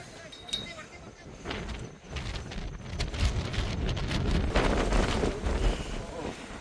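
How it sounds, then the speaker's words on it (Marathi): Strong wind gusting across a mountain pass at Naneghat, a steady roaring rush that swells and buffets the microphone, with people talking faintly beneath it. "किती हवा आहे की जग."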